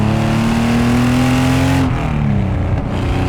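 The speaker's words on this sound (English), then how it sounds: "this is a Porsche 930." An RWB Porsche 930 engine accelerates hard, a loud close rising howl that climbs in pitch before backing off into a lower rumble near the end.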